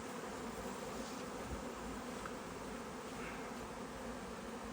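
Swarm of honeybees being settled into a wooden hive box outdoors, giving a steady, dense buzzing drone that stays even and close throughout, with no talking.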